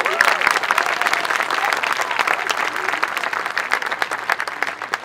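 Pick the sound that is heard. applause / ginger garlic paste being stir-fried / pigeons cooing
applause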